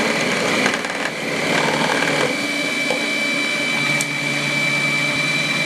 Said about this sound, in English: As the yautía is being grated, add more yautía until the food processor bowl is filled.